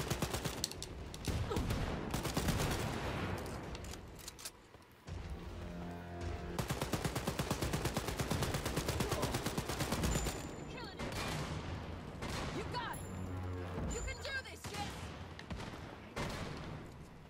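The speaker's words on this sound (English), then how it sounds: "Whoa! There's a lot of bullets flying around." Dense gunfire in Wolfenstein Youngblood, with rapid machine-gun bursts and overlapping shots, loud and close, trailing into sparser bursts among other game noise and a short exclamation.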